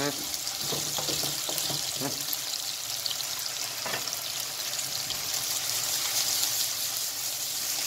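Peppers fry in a pan in a home kitchen, with a steady bright sizzle throughout and a few clinks of stirring, close and fairly loud.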